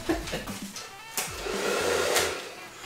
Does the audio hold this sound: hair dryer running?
yes